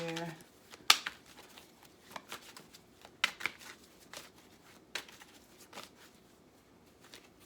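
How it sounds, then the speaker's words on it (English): Tarot cards are shuffled in several quick, soft riffles and taps, close and fairly quiet, with faint background hiss. "Let's do a little shuffle."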